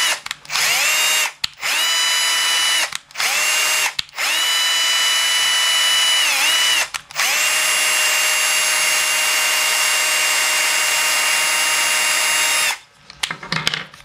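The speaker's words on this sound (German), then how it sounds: "das Gewinde schneiden geht mit der Maschine viel besser wie mit der anderen." A power tool machine cutting threads, running in long loud whining bursts with short pauses between as it drives in and reverses, close and alone.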